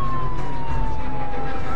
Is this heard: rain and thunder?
no